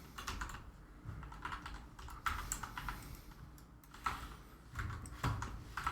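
Steady computer keyboard typing during a Destiny 2 gaming session, a continuous run of close, soft clicky keystrokes with occasional louder clusters, no talking.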